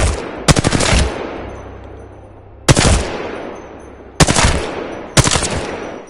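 Video game automatic gunfire crackles in four sharp, loud bursts of rapid shots, each fading into a brief echoing tail before the next.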